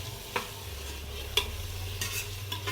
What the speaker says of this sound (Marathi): हे पहा, असं सोयाबीन छान असं तेलामध्ये परतून घ्यायचं।